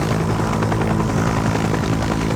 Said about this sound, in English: You think we can carry 2 helicopters with 1 helicopter?